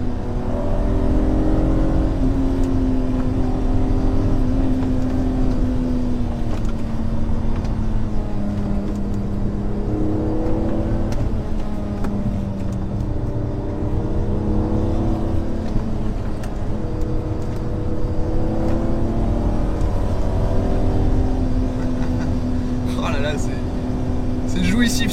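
BMW Z3 M roadster engine revving hard on the move, a loud continuous exhaust note with rising and falling pitch through gears over about 25 seconds, someone talking over it at times.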